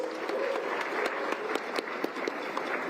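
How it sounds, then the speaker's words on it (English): A crowd gathered in a mountain village for a skyrace claps for the event's partner resort, a short, steady patter of applause with a few crisp nearby claps standing out. "Let's give them a big round of applause, please"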